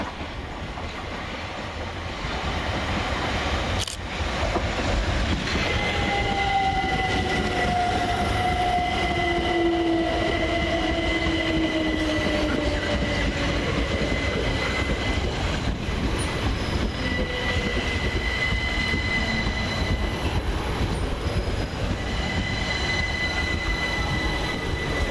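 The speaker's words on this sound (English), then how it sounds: "arriving about 5 minutes late is 387-212 and 387-221, working the 1242 Southern Railway service from Brighton to London" Southern Railway Class 387 electric trains, units 387-212 and 387-221, arriving at Preston Park station on a Brighton to London Victoria service, a steady loud rumble with long drawn wheel squeals and tonal whines building as the train rolls in close by.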